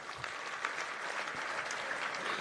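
Steady applause from a crowd at a political gathering, sustained and even throughout, with a dense wash of clapping and no clear voices on top.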